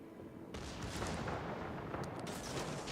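In the World of Warships video game, a warship's secondary guns fire in a rapid rumbling barrage, dense booming blasts that run together, fairly faint and without talk.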